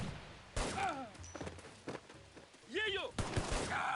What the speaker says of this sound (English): Now I'm shooting Africans for some reason.